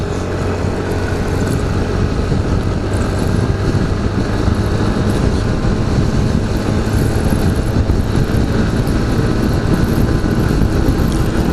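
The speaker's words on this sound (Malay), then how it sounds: "Ramai yang naik skuter hari ni." Scooters and motorcycles riding along a toll road near Skudai, a steady loud engine and road drone that fills the whole stretch without a break.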